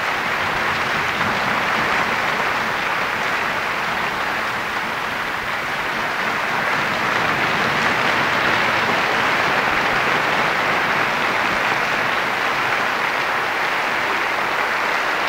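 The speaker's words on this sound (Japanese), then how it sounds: "NHK ホールまだ大きな拍手が続いています。" Sustained audience applause in NHK Hall after an NHK Symphony Orchestra subscription concert, a broad, continuous wash of many hands clapping that holds at a steady, full level for the whole stretch with no speech.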